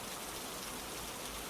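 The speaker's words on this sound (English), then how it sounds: "drops tapping first on broad leaves, then on your shoulders, then on the path ahead." Rain falls steadily onto broad leaves as a dense, even hiss of fine drops, continuous and soft with no distinct individual taps.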